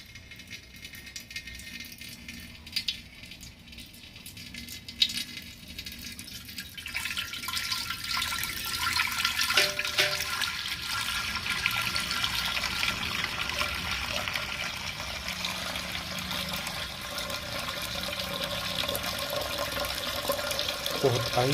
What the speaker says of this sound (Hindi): देखिए व्यूअर्स, अब हम इस पानी को निथार रहे हैं।